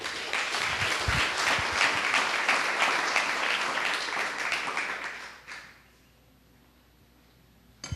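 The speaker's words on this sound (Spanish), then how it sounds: "Los que están entendiendo aplaudan hoy." A congregation applauds loudly at a religious teaching session, steady dense clapping for about five seconds before fading out abruptly into near silence, with a faint sound at the very end.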